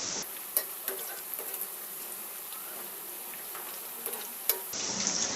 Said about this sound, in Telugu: లైట్ గోల్డెన్ కలర్ వచ్చే వరకు ఇలా వేయించుకుంటూ ఉండాలి, సపరేట్ చేసుకుంటూ